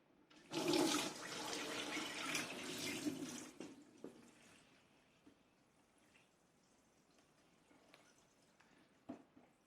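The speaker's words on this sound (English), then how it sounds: "So the first load of liquid that comes out of this, I reckon, will be water." Liquid gushes out of a Saab 900 Turbo engine with head gasket failure, a loud splashing pour for about three seconds that then tapers into faint trickles and scattered drips.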